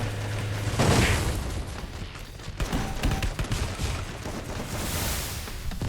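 Rapid gunfire and impact bursts in the Free Fire mobile battle royale, rounds striking a vehicle, with dense overlapping shots and booms running loud and continuous throughout.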